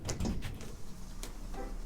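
Train or tram doors sliding open at a station in Gothenburg, a close mechanical rush and thump with a brief hiss near the end, set against steady low station rumble.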